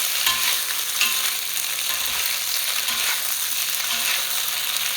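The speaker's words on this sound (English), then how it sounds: "And I'm going to just stir some more," Kale and kimchi fried red rice with tofu cubes is stirred in a hot pan, with a steady sizzle and soft scraping strokes that continue for several seconds without any talk.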